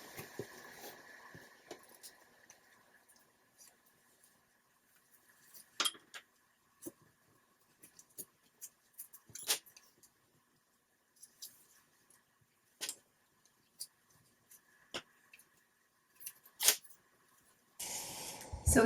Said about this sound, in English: I am going to start extracting the pans from this palette